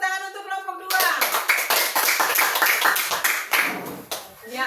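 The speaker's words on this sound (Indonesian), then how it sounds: "tepuk tangan untuk kelompok 2" A classroom of students breaks into applause for group 2, a dense burst of many hands clapping close by that starts abruptly after a voice and carries on for several seconds before fading.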